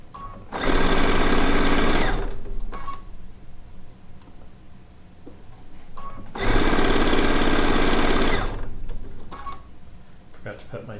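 A sewing machine stitches quilt blocks in two loud, sustained bursts of rapid mechanical whirring, each about two seconds long, separated by quieter pauses with small handling noises.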